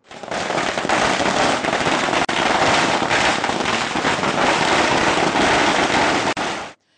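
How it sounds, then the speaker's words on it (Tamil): A dense, continuous barrage of firecrackers set off in celebration by political party supporters near a bus stand crackles loudly for several seconds without pause, then cuts off abruptly. "தேமுதிக தொண்டர்கள் பட்டாசு வெடித்து கொண்டாடினர்"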